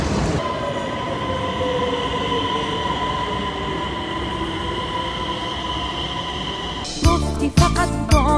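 A passenger train runs from Denmark toward Malmö, giving a continuous rolling rumble with a steady tonal hum inside the carriage, then sharper squeals and clatter near the end.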